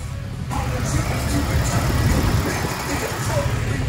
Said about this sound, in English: Oh yeah it's idling at 500 still